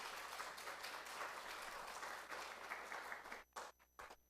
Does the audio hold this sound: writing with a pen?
no